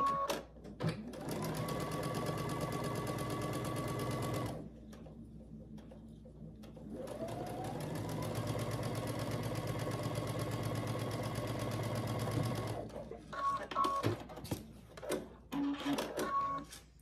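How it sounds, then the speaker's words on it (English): A sewing machine stitches a seam on a quilted pinwheel block in two long, steady runs, a humming motor with rapid needle chatter, separated by a brief quiet pause and followed by a few short bursts at the end. "So we'll flip that over, sew down that side."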